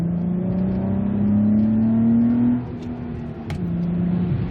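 Nissan Altima fitted with a Magnaflow resonator accelerating hard in second gear, a steady rising engine drone with loud intake noise that eases off near the end.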